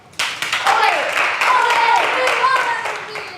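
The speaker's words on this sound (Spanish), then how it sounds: "Aplauso." Students in a classroom clap briefly, scattered sharp claps overlapped by speaking voices throughout.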